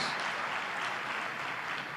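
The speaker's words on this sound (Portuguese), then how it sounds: "Você pode aplaudir ao Senhor?" A church congregation applauds during a worship service, a dense, steady wash of many hands clapping at even volume throughout, with no voices standing out.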